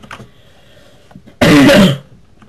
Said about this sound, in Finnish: yskä.